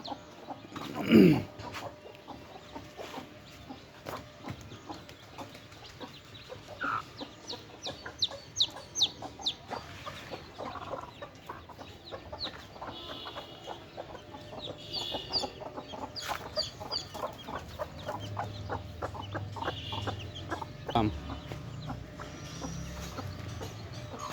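Hens clucking around newly hatched chicks after brooding on eggs, soft scattered clucks and chick peeps continuing through the whole stretch, with one louder call near the start, fairly close with no talk.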